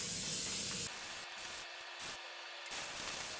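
Spray primer hisses from a can onto dirt bike plastics in a cold garage, in several short bursts separated by brief pauses, close and fairly loud.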